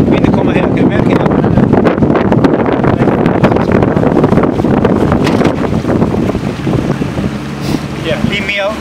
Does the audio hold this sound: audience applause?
no